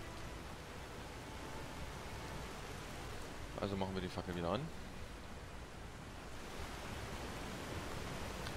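Steady rain hisses evenly throughout a dark stretch of the video game Enderal, with someone briefly speaking midway over the downpour.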